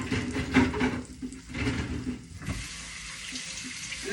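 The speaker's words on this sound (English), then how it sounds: "I'm going to rinse my hands off." A kitchen faucet runs steadily as hands are rinsed beneath it, a close, continuous splashing hiss that shifts in tone while the water stream is broken and redirected.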